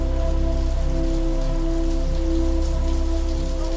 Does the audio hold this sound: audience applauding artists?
no